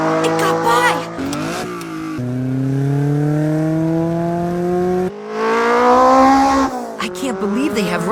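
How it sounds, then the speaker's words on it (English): Runaway cars racing in the anime éX-Driver, engines revving and rising in pitch through several gear changes, with tire squeal and a car passing close. "I can't believe they have runaway cars here."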